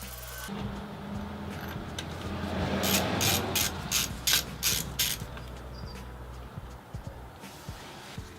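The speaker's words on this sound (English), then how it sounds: "We now need the 8mm socket to remove the 3 regulator rectifier bracket bolts." Socket ratchet undoing the bracket bolts of a motorcycle regulator rectifier, a close run of about seven rapid clicking strokes after a softer lead-in, then scattered faint clicks.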